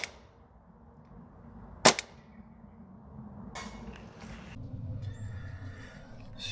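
A single sharp crack as a Novritsch SSP28 airsoft pistol fires a BB at a target on a range, followed by quieter rustling and faint handling noise.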